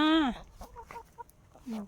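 Chickens clucking in a rural Thai garden, a near, loud squawking cluck followed by softer scattered clucks and another short call.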